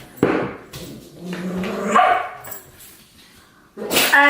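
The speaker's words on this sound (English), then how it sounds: "That's my pugs. If you hear them barking," Pugs bark and yip loudly nearby in short bursts, a couple of sharp barks at the start and a louder flurry at the end.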